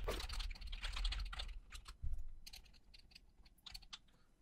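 Someone types a short message on a computer keyboard, with a quick flurry of close, soft key clicks that thins into scattered taps and pauses.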